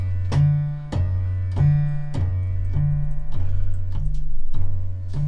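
Electronic keyboard playing a slow scale melody, a series of about nine evenly spaced sustained notes with clear attacks, loud and close with no talking.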